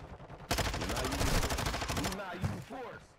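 Rapid automatic gunfire in a Call of Duty DMZ match, a loud sustained burst of shots starting abruptly and running for about two seconds before speech takes over.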